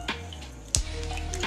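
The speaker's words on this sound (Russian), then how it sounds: "Просто смываем лишнюю соль, которая нам уже не понадобится." Running tap water trickles and drips steadily while excess salt is rinsed off a piece of salted red fish, with a sharp knock partway through; no talking.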